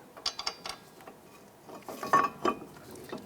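A bolt is started by hand into a 2001-2007 Ford Escape front brake caliper bracket, giving a series of small metallic clicks, rattles and taps, close and fairly quiet.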